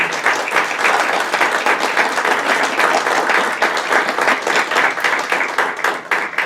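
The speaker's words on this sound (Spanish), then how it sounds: "Yo sí quisiera que le brindáramos un fuerte aplauso a Janet Alemán, por favor." Sustained, dense applause from a seated audience at a book presentation, loud and steady throughout with no pauses.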